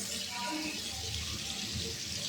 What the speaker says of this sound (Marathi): आपलं हात धुवायचं असतं ना नळ, ते आहे.